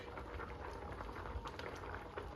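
Yams simmering in their own drippings in a pan, left unstirred: a steady soft bubbling hiss with faint pops, continuous and low, with no voices.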